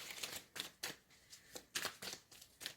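Tarot cards are shuffled by hand in a quiet room, producing about eight short, crisp riffling bursts at an uneven rhythm, close and soft with silence between them.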